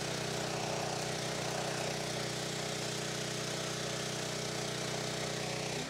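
A 2-in-1 welding generator's engine runs steadily at a constant idle-like hum, moderately near and unbroken, with no one talking.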